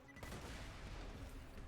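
Gunfire and explosive blasts from the Borderlands video game, a dense, continuous loud burst of crackling shots and booms filling the short moment without any talking.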